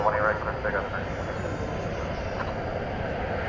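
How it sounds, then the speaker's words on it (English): An American Airlines Boeing 737-800 on the runway at night at DFW Airport, a steady, moderately loud jet engine rumble and whine, with a voice talking over the start. "Here is American 1695. It's going to Ontario, California. It's a 737-800."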